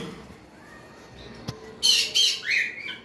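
Lovebirds let out a few sharp, shrill squawks in quick succession near the end, preceded by a soft click amid quiet background noise.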